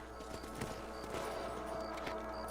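A horse trots with a steady clip-clop of hooves in Red Dead Redemption on PS4, close and moderately loud over a dense, continuous backdrop of game ambience.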